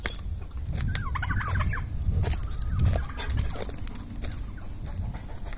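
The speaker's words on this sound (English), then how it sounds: "Come on, turkeys." Turkeys gobble in a flock outdoors, several overlapping calls rising in bursts over low rustling and movement, close and fairly loud.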